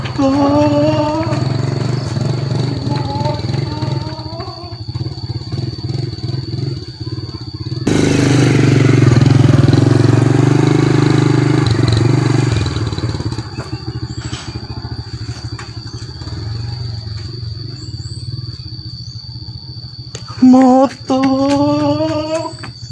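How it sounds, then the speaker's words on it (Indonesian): A motorcycle engine rumbles and roars, growing loudest in the middle, with voices talking briefly near the start and end. "Motor saya."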